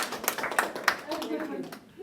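A small group applauds a host in her home, with scattered sharp hand claps under a person speaking, fairly close and modest in volume.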